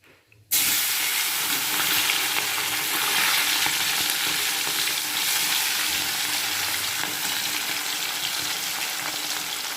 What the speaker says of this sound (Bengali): তেল মনে হয় গরম হয়ে গেছে, তো এখন মাছগুলো ছেড়ে দিই।